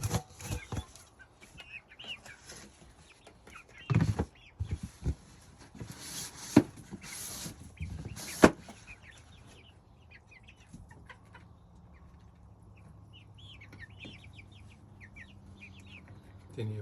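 Young Dominicker (Barred Rock) and Sussex chickens cluck and chirp softly up close, with bursts of wing flapping and scuffling midway, then quieter peeps over a low hum.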